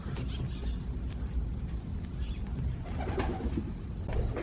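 A pigeon coos at close range, low throaty calls blending into a steady rustling, noisy background with no talk.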